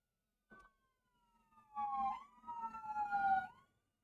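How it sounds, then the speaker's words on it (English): Sirens wail and sweep up and down in pitch as emergency vehicles pass at a moderate distance, rising then fading, with low traffic rumble beneath, heard from indoors. "Sirens going by."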